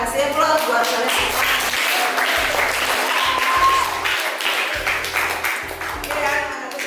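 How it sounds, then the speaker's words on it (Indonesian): Students in a school science lesson receive a steady wash of clapping that runs the whole time while a person keeps talking over it. "Kasih aplaus buat kalian."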